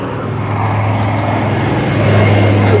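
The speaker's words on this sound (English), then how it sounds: "this will be the last pass of the B-25" A polished B-25 bomber sweeping past on a display pass at an air show, its radial engines making a loud, sustained broadband roar that holds steady throughout.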